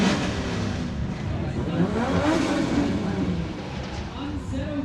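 BMW drift car at a D1 drifting event, its engine roaring and revving loudly at full throttle and holding a dense, steady blare for several seconds, with a commentator's voice underneath.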